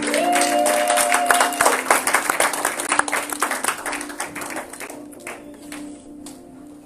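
A church congregation at a Sunday service claps together in a loud burst of applause that thins into scattered claps and fades, with a few voices in the background.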